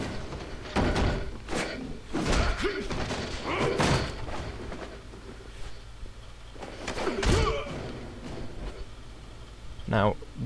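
Heavy thuds and slams of a door in The Bourne Conspiracy video game, heard while moving along a corridor toward a boss fight; several loud, close impacts spread across the stretch, with background game noise between them.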